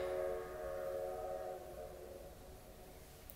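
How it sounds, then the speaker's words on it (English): A train passes beside the tracks at a distance, a faint sustained rumble with a drawn-out whistle-like tone that fades over a few seconds, with no talk. "excuse the train in the background"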